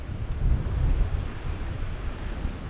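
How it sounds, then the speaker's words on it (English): Strong, gusty wind buffets the microphone on a wet, squally Lake District fell during a winter scramble toward Bell's Knot in the Easedale Valley, a dense, loud low roar that swells and eases with no voices. "So it's pretty wet, windy conditions, squally."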